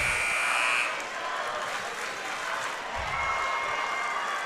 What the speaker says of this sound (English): Both sections are standing up and cheering.